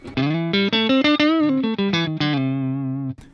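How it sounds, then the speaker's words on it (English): An electric guitar through an all-valve Vox AC30 amp with a warm, slightly overdriven tone plays a short run of notes, ending on a sustained ringing chord. "I've got here Vox AC30, which is all valve, and it sounds a bit like this."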